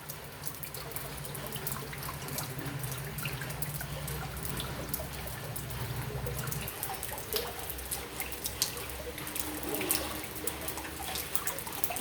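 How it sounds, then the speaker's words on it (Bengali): Floodwater laps and trickles in small waves in front of a house gate. The sloshing is continuous and fairly close, with scattered drips and splashes. "জলের ঢেউ হচ্ছে, এদিকে আসছে।"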